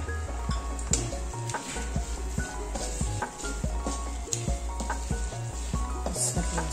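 Sesame seeds and dry coconut powder sizzle and fry in hot oil while being stirred for besan vadi, a steady close crackle with occasional light clinks of a spatula against the pan.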